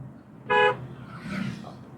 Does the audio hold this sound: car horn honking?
yes